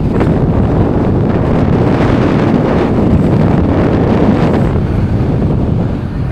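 Strong wind roars and buffets the microphone continuously on the Queensboro Bridge in New York City, a loud, steady rumble with no pauses throughout.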